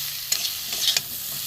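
Vegetables for a dry Bengali vegetable chorchori being stirred and fried with spices in a pan, giving a soft steady sizzle with a few sharper scrapes of the spoon, close and alone with no voices.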